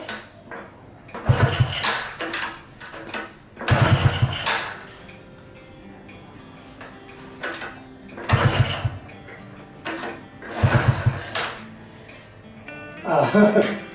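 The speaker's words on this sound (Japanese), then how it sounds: "今一つかかり悪いんだけどもね、多分あとキャブじゃないのかな。" Engine on a customer's motorcycle with a possible carburetor fault, trying to start: four cranking bursts separated by a low idle-like hum, with someone talking briefly.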